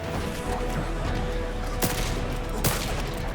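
Two sharp gunshots crack over a dense crowd roar during an Injustice 2 fighting game tournament match, spaced about a second apart.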